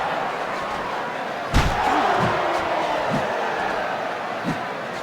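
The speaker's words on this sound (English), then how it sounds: "huge haymaker puts the crowd in a frenzy" In a heavyweight boxing video game bout between Pacquiao and Jones Jr., a single heavy thud of a haymaker lands over a steady roar from the arena crowd, followed by a few softer impacts.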